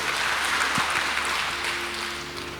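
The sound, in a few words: congregation clapping for Jesus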